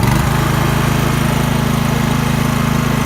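Honda EB2800i portable inverter generator running with eco mode off, a loud steady close engine drone at high revs with a humming low buzz, continuous and alone.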